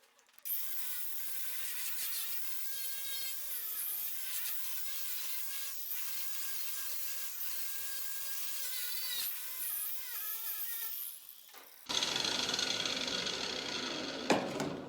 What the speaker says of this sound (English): So we'll wire wheel this